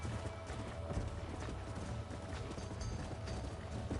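Horse hooves clip-clopping in the Red Dead Redemption video game while a stallion is being lassoed, a steady running patter of hoofbeats over a busy game soundscape, with no talk.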